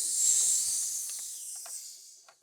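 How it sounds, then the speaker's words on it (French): Snake hissing sound effect for a jungle scene: one long, airy, sharp hiss, loud at the start and slowly fading, with faint clicks near the end. "De serpents."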